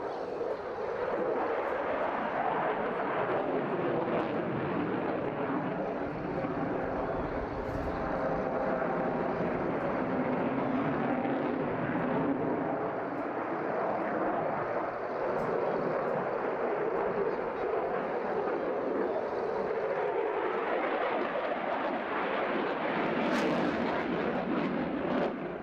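A fighter jet flying aerobatics at the Wales Airshow 2024 sends a continuous loud roar with a slowly sweeping pitch as it passes through corkscrews and barrel rolls, with an announcer's voice faintly under the engine noise.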